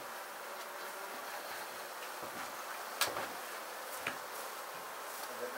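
Honey bees hum in a steady, faint drone during a hive removal as they are shaken into a box, with a few sharp knocks breaking through.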